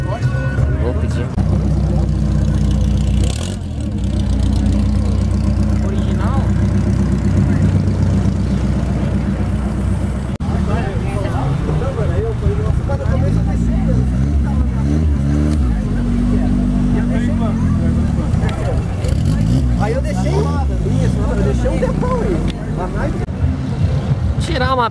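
A supercharged Ford Del Rey engine runs loud and rough throughout with straight exhaust, its raw note rising and falling in revs, with voices talking over it at a classic car meet.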